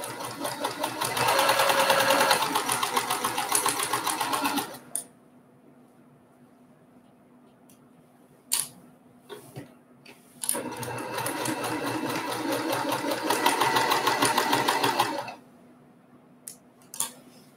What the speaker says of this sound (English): let me go over to the machine really quick and sew these